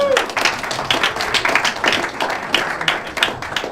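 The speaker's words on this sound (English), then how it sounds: "a polite applause will do" A small comedy-night crowd gives a short round of scattered, polite clapping, fairly close and uneven, with a little voice mixed in.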